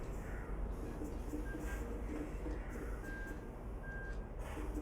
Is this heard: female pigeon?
no